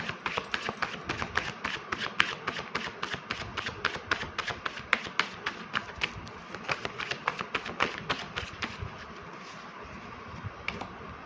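Tarot cards are handled and drawn during a reading, making a rapid, fairly regular run of soft clicks and flicks up close, with no talking.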